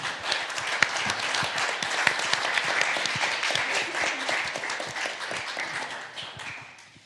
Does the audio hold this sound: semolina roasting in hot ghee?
no